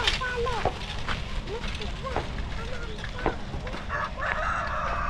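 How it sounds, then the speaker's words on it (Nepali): Four chickens climb onto a rooftop in the early morning, giving short clucks and crowing calls at a moderate distance over a constant background hiss and occasional talk. "गाइस उता चाहिँ 4टा कुखुरा छतमा चढिरहेछ"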